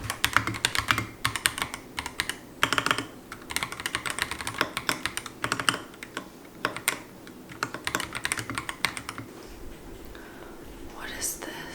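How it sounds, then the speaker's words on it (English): Fingers type on a computer keyboard in rapid, close bursts of clicking keystrokes with short pauses between runs. Soft whispering can be heard faintly beneath the typing. "I love using this keyboard."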